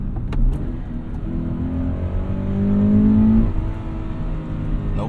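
A Toyota 86 engine revving at full throttle, a loud, close drone whose pitch climbs steadily as the car accelerates and then eases off toward the end.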